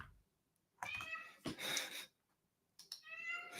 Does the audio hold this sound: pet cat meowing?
yes